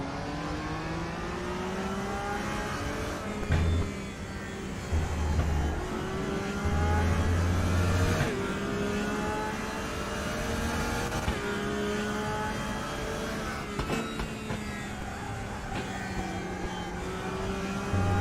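BMW race car engine in the RaceRoom sim, a big heavy car, droning steadily with rising and falling revs through gear changes, loud and close throughout with no talk.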